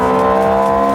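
A Ferrari F430 F1 small-bore V8 engine screams loud and close at high revs, a steady sustained howl with no talk.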